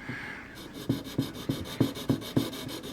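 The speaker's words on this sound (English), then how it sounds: "That tapping you hear, that's the other end of this clamp" A steady series of soft, evenly spaced taps, about three per second, from the loose end of a clamp tapping on a table, over a faint rubbing hiss, while building a model ship.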